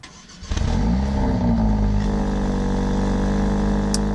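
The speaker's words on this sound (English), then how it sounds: "There's a little bit of a rumble and a gurgle to this engine." A 2018 Mercedes-AMG GLA45 engine cranks and fires up after a brief pause, then settles into a loud, deep rumbling idle with a throaty gurgle, close by.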